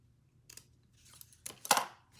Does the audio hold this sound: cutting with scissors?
yes